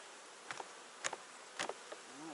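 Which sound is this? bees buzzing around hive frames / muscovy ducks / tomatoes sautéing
bees buzzing around hive frames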